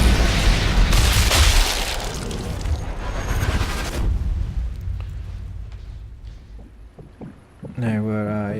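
In the video game Sniper Elite 4, a shot canister blows up in Bitanti Village with a loud, rumbling blast that decays over several seconds, followed by scattered small noises and then someone speaking briefly.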